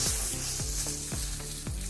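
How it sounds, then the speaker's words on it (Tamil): Dried red chillies and green chillies sauté in a pan with golden chana dal and urad dal, a loud, close sizzle broken by regular, quick sweeps of stirring. "கடலைப்பருப்பு, உளுத்தம்பருப்பு பொன்னிறமாக வதங்கினதுக்கப்புறம் வரமிளகாய், பச்சை மிளகாய் இது ரெண்டையும் போட்டு வதக்குறோம்"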